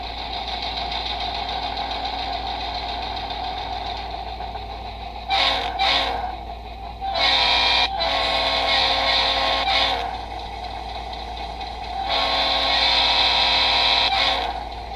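Sound from an HO scale model locomotive plays through a small iPhone speaker, a steady low diesel-like engine drone with brighter swelling bursts and rises at intervals, continuous and fairly loud with no talking.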